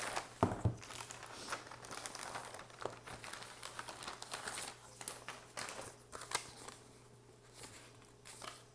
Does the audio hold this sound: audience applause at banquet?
no